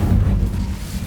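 A fire spell cast in Hogwarts Legacy, a loud, dense low roar of flame that rumbles steadily and close throughout with no talk over it.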